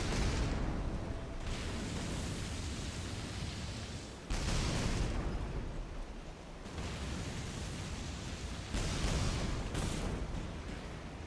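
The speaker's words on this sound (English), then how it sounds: "Shoot that cargo hulk 5 times" A ship's turret in the Battlestations: Midway video game firing at a cargo hulk, heavy booming shots with long rumbling tails, about four blasts spaced a few seconds apart over a dense roar.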